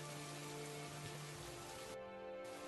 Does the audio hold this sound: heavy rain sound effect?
yes